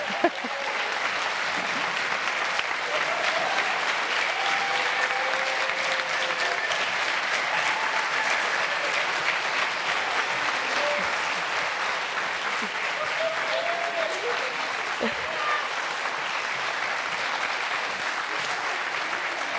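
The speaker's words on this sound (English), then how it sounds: "we're going to make a massive noise, a thunderous applause for these young people who've spoken before you this evening" Sustained applause from a large audience at an evening ideas event at the Collège de France, dense steady clapping holding loud and even throughout with no pauses.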